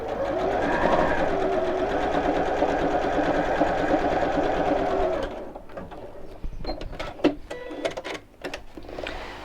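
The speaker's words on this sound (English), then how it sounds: "I'm just going to sew down one side here." Sewing machine stitching down one side of a fabric pot holder, a steady close motor whir for about five seconds, then stopping and giving way to quieter clicks and handling noises.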